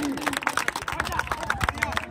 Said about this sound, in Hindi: जोरदार तालियां साले के लिए